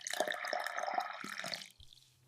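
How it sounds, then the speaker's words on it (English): Juice poured into a glass, a bright, bubbly trickle of liquid splashing for about a second and a half before stopping, close and fairly quiet. "I pour juice into a glass."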